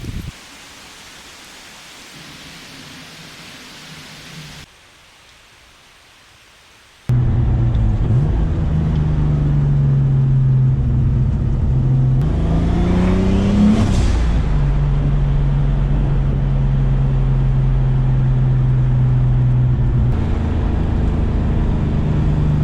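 A turbocharged forged BMW M50 car engine drones loudly after a quiet start, its pitch climbing as it revs, then dropping back as it decelerates, with wind rushing throughout.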